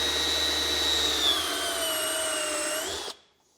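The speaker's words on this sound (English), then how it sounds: "we're going to drill us a hole the size of this grommet" A unibit step drill bores a grommet hole through a motorcycle bag, a steady high whining drill tone with a slowly falling pitch that runs for about three seconds and then stops abruptly, with no talking.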